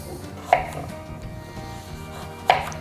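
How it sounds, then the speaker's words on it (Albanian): Vegetables such as carrot being chopped for vegan sushi, with two sharp knife strikes on a board spaced about two seconds apart over a quiet kitchen background. "vazhdojmë me prerjen e perimeve"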